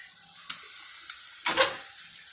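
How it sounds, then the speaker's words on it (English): Butter hits a hot pan with a short burst of sizzling, preceded by a couple of light clicks and then quickly settling down. "All right, now what we're going to do, add some butter"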